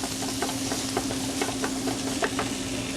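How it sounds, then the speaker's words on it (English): Onions sautéing in melted butter over medium heat, a steady close sizzle with light scattered pops and faint stirring scrapes throughout, no voices. "we're going to saute these in a little butter"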